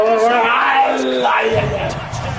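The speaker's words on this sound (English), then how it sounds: "Charles, you and I can hear a lot of groans right now coming from this crowd." A Houston Texans playoff football crowd in a stadium lets out a loud, sustained collective groan, rising and falling under close commentator talk.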